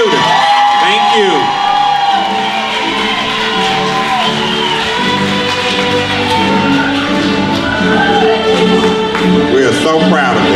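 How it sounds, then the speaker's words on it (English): At a kindergarten graduation ceremony, a crowd of families claps, whoops and shouts for the graduates, loud and continuous, with voices calling out through the cheering. "Clap for our students."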